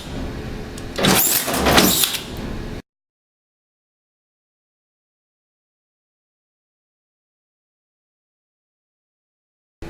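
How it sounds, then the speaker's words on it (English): A Samuel P702 automatic plastic strapping machine refeeds its strap in one close mechanical whirring burst lasting under three seconds, followed by silence. "The machine will refeed the track as normal,"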